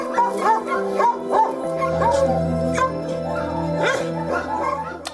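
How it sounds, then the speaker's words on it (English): Many dogs at a shelter housing dozens of abandoned dogs yip, whimper and howl together, a close, overlapping chorus of high-pitched cries and barks with no pauses. "And now I have 67 dogs living here."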